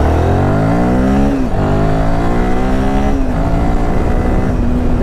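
Loud engine of a Royal Enfield Himalayan 450 adventure motorcycle revving hard through rising gears, pitch climbing and dropping at each shift, close and continuous for several seconds.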